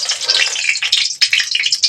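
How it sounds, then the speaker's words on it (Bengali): Cooked rice frying in a small amount of oil gives a close, crackling sizzle with bright spitting pops and short stirring scrapes, steady and fairly loud throughout. "তাই মা বললো যে ভাত ভাজছি অল্প তেল দিয়ে ভাজছি।"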